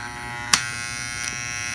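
A model locomotive's electric motor, suspected of being seized, gives a steady thin buzz as it strains to run, with a short sharp click near the start and a faint second tick later.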